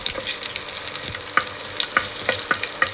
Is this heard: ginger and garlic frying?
yes